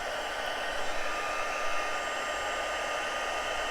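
A heat tool blows hot air steadily onto black card stock, making a loud, even whirring hiss with no talk throughout these few seconds.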